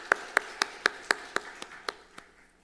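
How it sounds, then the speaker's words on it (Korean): Nine or ten evenly spaced, sharp hand claps ring out in a church during a Wednesday prayer service, slow and deliberate, fading slightly toward the end. "우리 격려의 박수 하겠습니다."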